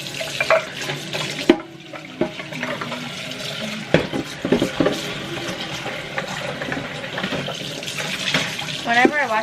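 Tap water runs into a kitchen sink while dishes are washed, a steady watery wash with clinks and splashes, with voices talking over it.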